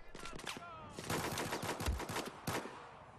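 Pistol shots from Battlefield 4 multiplayer crack out in quick bursts, with several sharp broadband reports spread across a few seconds amid game noise and faint background tones.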